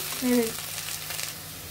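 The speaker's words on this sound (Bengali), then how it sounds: "পরিমাণ মতো শাকের উপরে একটু লবণ দিয়ে দিব যাতে তাড়াতাড়ি শাকটি ভাজা ভাজা হয়ে যায়" Salted jute leaves (pat shak) frying in a pan, a soft, even sizzle with a faint stir near the start.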